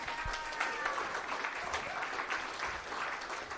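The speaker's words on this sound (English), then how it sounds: "Big round of applause, please." Steady, dense applause from a conference audience at the SEA Summit 2025 as the SEA CEO returns to the stage, a continuous wash of many clapping hands at moderate loudness with no break.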